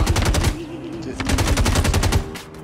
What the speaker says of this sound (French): Ouais, ça tire là.